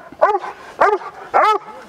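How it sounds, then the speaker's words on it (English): Protective Doberman on a tie-back barking three times in close succession, loud and near, each bark sharp with a slightly whining edge. "We've got obviously a protective Doberman."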